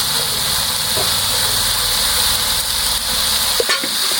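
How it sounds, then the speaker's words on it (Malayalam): Spice masala with coriander and turmeric powder sautés in a pan for chicken biryani, a continuous loud sizzle and hiss with a few clinks of stirring near the end. "ഇനി നന്നായിട്ടൊന്ന് വഴറ്റുക."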